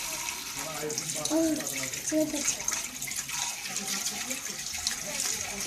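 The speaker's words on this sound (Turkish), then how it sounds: "Şimdi su ekleyeceğiz. Şimdi suyu ben bu çömleğe denk getirmeye çalışacağım." Water pours steadily into a home aquarium, aimed onto a ceramic pot decoration, making a continuous splashing trickle that runs the whole time at moderate level with no one talking.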